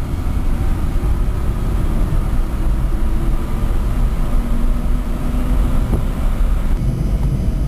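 A converted electric car with a Siemens AC motor and home-made three-phase controller driving in first gear, giving a steady loud drone of motor and road noise that holds evenly throughout.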